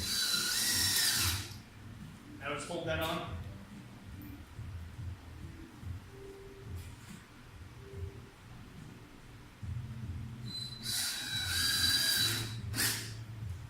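Two bursts of a power drill driving screws at an angle into wood, one at the start and one near the end, with a brief spoken remark in between.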